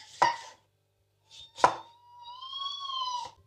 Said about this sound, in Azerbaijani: Limonu halqa-halqa doğrayıram.